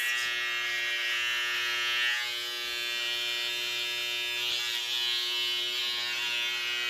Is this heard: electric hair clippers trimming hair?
yes